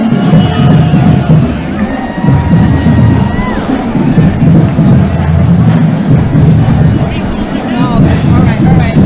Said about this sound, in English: But the crowd can cheer.